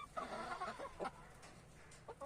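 Chickens cluck in short, uneven bursts close by in a village coop, with a couple of louder squawks against a quiet background.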